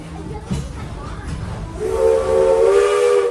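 A Walt Disney World Railroad steam train at Magic Kingdom's Fantasyland Station lets out a single sustained whistle, rising out of soft hissing and background bustle partway through.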